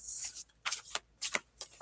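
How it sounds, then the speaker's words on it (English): Playing cards from a large combined pile of decks being shuffled by hand in several quick, crisp riffling bursts separated by short pauses, close and fairly quiet, with no talking. "I'm gonna just shuffle the way I shuffle because there's too many cards."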